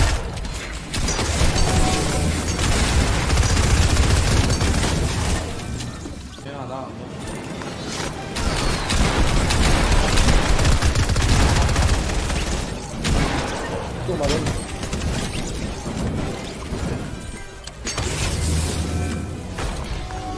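Rapid gunfire bursts and explosions in a Fortnite squad event match, loud and dense throughout, with players chatting in Spanish over the shooting.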